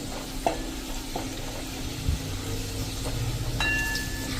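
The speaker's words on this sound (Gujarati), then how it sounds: "અને હવે આ બધું આપણે મિક્સ કરી લેશું." Potatoes with red chili and spices stirred in oil in a pan for a fasting dish, a steady sizzle with intermittent spoon scrapes and clinks against the pan, no talking.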